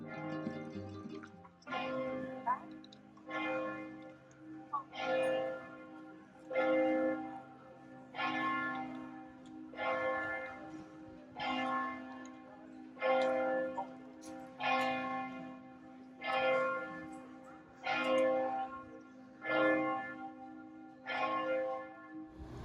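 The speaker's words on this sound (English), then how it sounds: "we listen to the church bells chime" Church bells in San Marino ring out at a steady, unhurried pace, about a dozen resonant strikes each left to fade into the next, heard from moderate distance with a low sustained hum beneath.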